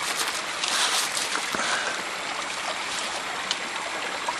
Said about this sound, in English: there's been some rain, so the water is flowing